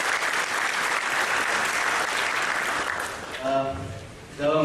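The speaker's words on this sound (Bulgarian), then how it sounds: "Аплодисменти." Sustained applause from an audience at a university celebration of the Mining and Geology University "St. Ivan Rilski" in Sofia, a dense steady clatter of clapping that thins out near the end as a few voices rise.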